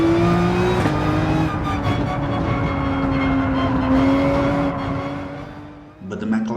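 Race cars in Gran Turismo 7 battle for position with contact, their engines roaring loud and close in a sustained high whine that shifts pitch as they accelerate, with a voice talking over it.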